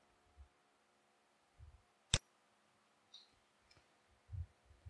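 A single sharp computer mouse click stands out in a quiet room, surrounded by faint soft bumps and handling noises.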